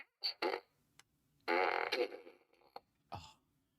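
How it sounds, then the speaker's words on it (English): Several short comic fart noises, a couple of quick blurts followed by a longer loud, rumbling fart and a few brief trailing puffs, all close and with no talk. "A well-timed fart is always funny"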